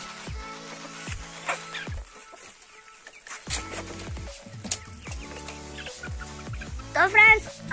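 Hens cluck in short, scattered bursts close by, with a sharper squawk near the end over a faint background.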